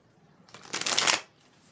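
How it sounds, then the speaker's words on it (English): Tarot cards being riffle-shuffled close up, a brief rising burst of crisp papery flutter that swells and then cuts off, alone in a quiet room. "So when I shuffle these ones, you'll hear a huge difference in how I shuffle"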